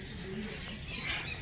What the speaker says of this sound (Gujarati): હા તો દેશી પોપટ છે આપણા.